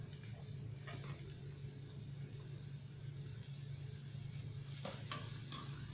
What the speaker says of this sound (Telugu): ఈ ఎర్రగడ్డ పచ్చి స్మెల్ పోయేంత వరకు బాగా సిమ్లోనే వేయించుకోవాలి